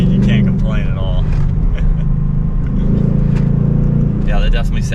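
The Coyote V8 of a 2024 Ford Mustang GT Premium drones steadily as it pulls, a loud low engine tone heard from inside the car under ongoing conversation.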